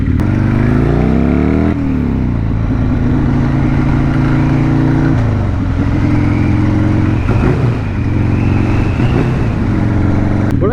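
Buell S1 Lightning motorcycle engine heard while riding near Wickenburg, Arizona, a steady loud rumble with a few gear changes and shifts in revs throughout, no talking.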